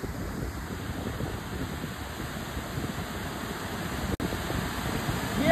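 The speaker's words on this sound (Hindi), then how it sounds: "ये देखिए अभी एक घंटे से लगातार पानी बरस रहा है।" Heavy rain falling steadily during an outdoor picnic, a dense continuous hiss with a brief dropout, with no talk.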